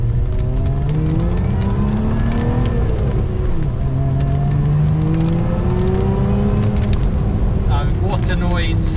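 Lotus Emira V6 with a manual gearbox revving hard and close, engine note rising and falling through sustained pulls, with a brief lift and re-rev and a faint squeal near the end, no talk over it.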